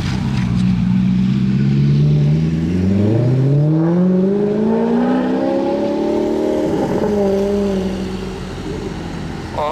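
A red Alfa Romeo 8C Competition coupé revs its engine in a Monaco street, the note climbing and falling in long smooth sweeps over several seconds, loud and close, then easing off.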